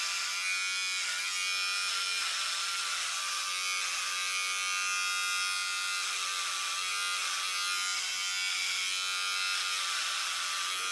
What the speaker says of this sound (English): in between, I've been shaving the neck beard and mustache hair.